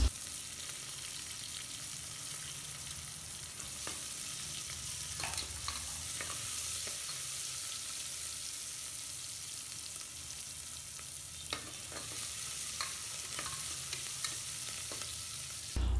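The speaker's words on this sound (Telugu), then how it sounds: "కట్ చేసిన ఉల్లిపాయలను, పచ్చిమిరప పీసెస్ని వేసి ఫ్రై చేయాలి." Chopped onions and green chili pieces fry in hot oil with bay leaf and cumin, giving a steady broad sizzle for the whole stretch, with scattered clicks and taps of a spoon stirring through the pan.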